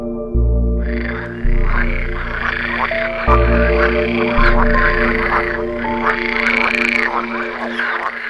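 Pool frogs croak loudly and repeatedly at a small pond during the breeding season, forming a dense, rhythmic chorus of rattling calls that carries on without pause and with no voices.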